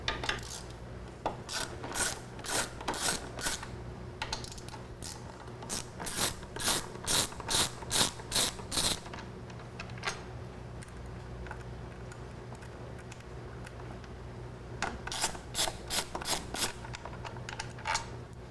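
Rapid ratchet wrench clicking in quick bursts while backing out T40 Torx bolts on a motorcycle during a drop seat kit install, close and clear, with pauses between runs and no talking.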